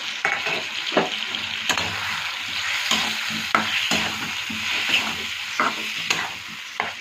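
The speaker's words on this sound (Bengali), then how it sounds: "দিয়ে ভালো করে এবার ভেজে নিই" Spice masala paste frying in a pan for an egg and pointed gourd dish: a continuous close sizzle broken by regular clicks and scrapes of a stirring spoon against the pan.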